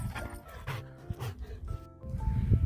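A dog out on a winter walk in Greece with mountains in view, panting and giving short soft barks and whimpers close by, with a few scuffs of movement and no one speaking.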